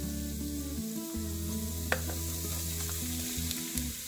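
Rice stirred into a hot pan already sizzling with onions, ginger and curry leaves, a constant close frying hiss with a few light scraping knocks from the stirring.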